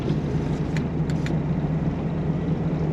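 A 1985 Mitsubishi L300 van with a V6 engine cruises along the road, heard from inside the cab as a steady low engine drone with road hum. A few faint clicks rise over it, and no one speaks.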